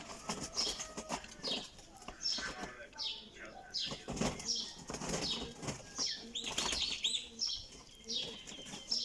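Wings flap in repeated bursts, close by, along with scattered bird chirps and soft cooing, while people talk in the background.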